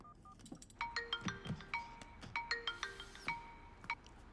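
A phone plays a bright melodic ringtone, a run of quick electronic notes repeating for several seconds, fairly quiet and close.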